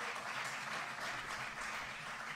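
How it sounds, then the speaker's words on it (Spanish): A concert audience applauds a blues band in a steady, dense wash of clapping that fills the room evenly without letting up. "por favor, un aplauso grande de todo el auditorio popular"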